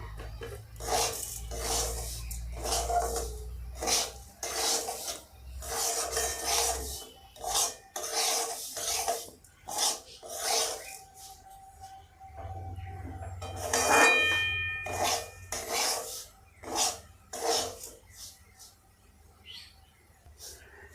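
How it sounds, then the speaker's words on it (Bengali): Semolina being stirred and dry-roasted in a kadai for sweet and spicy upma: steady, repeated close scraping and rasping strokes of a spatula against the pan, continuing in an uneven rhythm. "এবার সুজিটাকে একটু ভালো করে নেড়ে নেড়ে ভেজে নেব, যাতে কড়ার মধ্যে না লেগে যায়"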